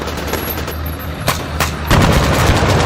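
Grenadiers opening fire on tanks make a steady stream of gunshots, with a couple of sharp bursts standing out before a louder, denser volley takes over.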